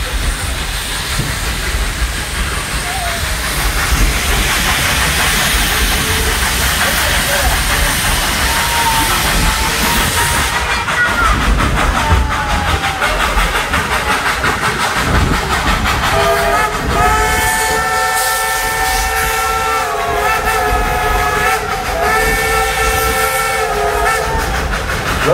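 A coal-fired narrow gauge 2-8-2 steam locomotive weighing 211,000 pounds hisses and rumbles steadily as it runs through the Smoky Mountains, then its whistle sounds in a long, loud, multi-toned blast.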